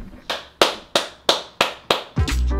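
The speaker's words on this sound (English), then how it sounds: "The 7 o'clock cheering." Rhythmic clapping at 7 o'clock, six sharp evenly spaced claps about a third of a second apart, followed by a louder burst of cheering and noise at the end, heard from some distance.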